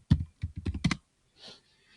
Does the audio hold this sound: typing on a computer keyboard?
yes